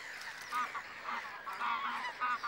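Greylag geese honk repeatedly in short nasal calls, several bursts spaced across a few seconds, moderately close against a quiet background.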